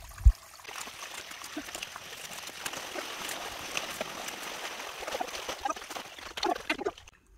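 Creek water trickling and pouring through a gap where a muddy beaver dam was pulled out, with ice in the water; a steady nearby gurgling stream with a sharp knock at the start.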